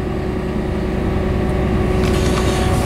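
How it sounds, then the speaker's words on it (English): A CAT 329E L excavator engine rumbles loudly and steadily nearby, its pitch shifting slightly as it is throttled up and down, with a few faint clicks over it. "You can hear the engine toggle up, toggle down."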